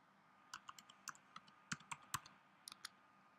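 A campaign ID is typed on a computer keyboard in short, irregular bursts of quiet, close key clicks, with some keys struck harder than others and a faint background hiss.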